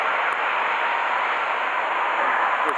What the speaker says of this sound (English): It's nice to hear that muscle.